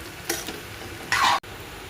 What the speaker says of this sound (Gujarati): હવે હું બધું મિક્સ કરી દઉં છું